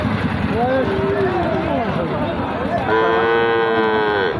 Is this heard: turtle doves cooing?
no